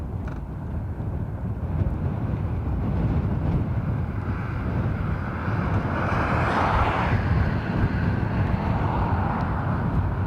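An Airbus A340 airliner of USC Aero starts its engines at Dublin Airport, heard as a steady, loud, broad roar and rumble with wind buffeting the microphone, unbroken for about ten seconds.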